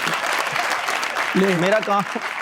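Steady applause from a crowd, with a voice speaking over it partway through.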